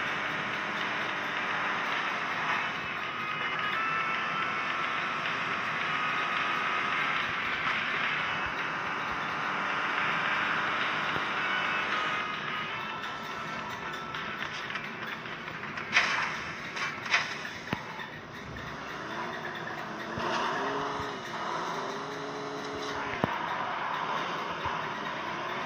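A car driven in PUBG on two shot-out tyres hums with a continuous engine drone that shifts pitch midway, with thuds and rattles near the end, fairly loud and steady.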